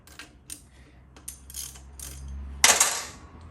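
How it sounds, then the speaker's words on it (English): A spark plug is worked loose and pulled from an auction motorbike engine: scattered metallic clicks and ratcheting ticks, then a brief louder scrape and clink near the end, close and fairly quiet. "I'll pull this spark plug out of here"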